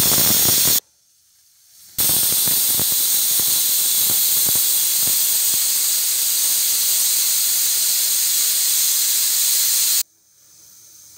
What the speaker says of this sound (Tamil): இப்போ பாருங்கள், 2 விசில் வந்தாச்சு.